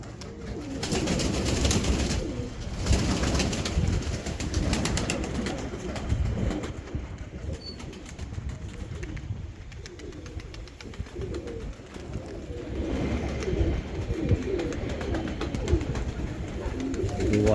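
Soft, low cooing of a Serpasti (sickle-winged) pigeon repeats over a breezy outdoor background, with gentle rustling and no clear talking.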